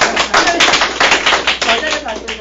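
A book forum audience claps for the MC in a dense burst of applause, loud and near, lasting a couple of seconds.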